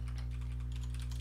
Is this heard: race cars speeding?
no